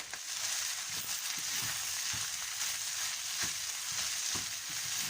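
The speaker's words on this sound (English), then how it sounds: "Leave it for about 2 minutes again, and make sure you give it consistent stir to avoid burning." Rice stir-fries in a hot pan for fried rice, a continuous bright sizzle with soft periodic scrapes and tosses of a spatula, close and moderately quiet.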